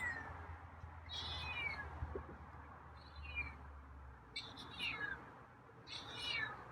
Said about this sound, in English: Okay, got some meows tonight